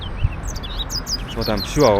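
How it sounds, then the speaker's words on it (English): A small streaky seedeater calls from grassland in New Muthaiga, Nairobi, with repeated high, brief chirps scattered through the clip while a person talks over them nearby. "There's a bird there called a streaky seed eater."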